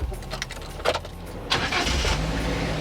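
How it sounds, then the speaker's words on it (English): Foton TruckMate 1-ton truck engine cranking briefly and catching, then settling into a steady near idle after a couple of clicks and rustles. "Then starting the vehicle."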